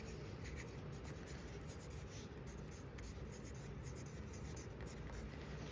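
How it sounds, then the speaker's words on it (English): Writing a name on the back of a sheet of paper for a neon zendoodle printmaking project gives a faint, continuous scratching of a tip on paper, alone and close. "I'm gonna write my name on the back of my paper."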